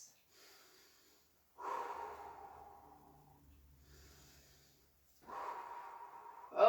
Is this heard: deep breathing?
yes